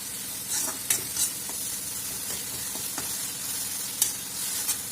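Dried Bombay duck thecha sautés in oil over a low gas flame, a steady close sizzle with intermittent spatula scrapes and small pops on top.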